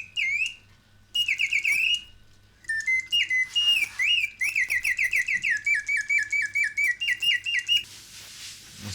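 A restored antique Reuge mechanical singing bird movement plays canary song: bright whistled trills and warbling phrases in quick repeated bursts, close and clear over a faint mechanical hum.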